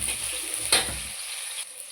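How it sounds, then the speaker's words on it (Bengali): Cauliflower and other vegetables fry in oil with light salt, giving a loud, even sizzle. A brief scraping stir cuts in partway through before the hiss settles again. "এইবার আমি এই তেলে আস্তে আস্তে সব ফুলকপিগুলো, সব সবজিগুলো ভেজে নেব আস্তে আস্তে।"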